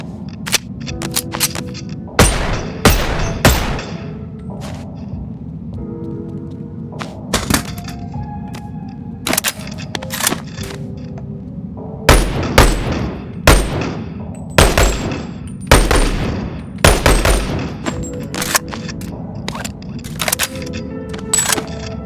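Gunshots fired in the VR game Boneworks, loud sharp cracks coming singly and in short bursts at irregular intervals, with quieter handling clicks and clatter between shots.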